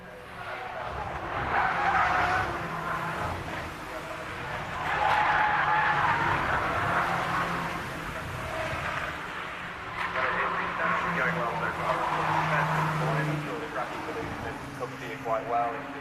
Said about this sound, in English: we've got some cars just coming through the mountain now